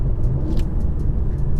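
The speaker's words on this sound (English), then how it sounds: "Straight away, it sounds so much better than any kind of 4-cylinder engine could ever do" The 3-litre V6 of a facelift Mercedes C43 AMG in Sport Plus drones as a deep, steady rumble heard from inside the cabin while driving, loud and continuous, with no talking.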